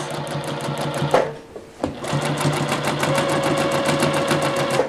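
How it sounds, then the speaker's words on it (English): A sewing machine stitches through a quilt in fast, even runs, loud and close, stopping briefly once before resuming its steady rattling hum. "You'll start quilting first, sewing a little bit off of the quilt."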